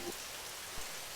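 Steady rain pours on an outdoor surface, a dense, even hiss of drops nearby, broken only by a couple of louder splashes.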